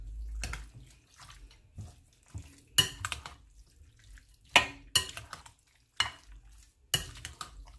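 Seasoned popcorn chicken breast pieces being stirred and tossed in a bowl, with a series of wet scraping swishes and sharp utensil knocks in irregular bursts, close and moderately loud, no talk.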